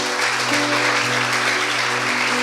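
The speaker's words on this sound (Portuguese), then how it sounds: "vamos aplaudir Jesus" Church congregation applauding during a Sunday morning service, a dense, steady wash of clapping with a sustained musical tone underneath.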